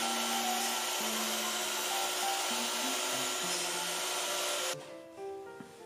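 A power tool cuts a notch out of a wooden mirror trim piece, a loud, steady, close whine that runs for several seconds and then stops abruptly.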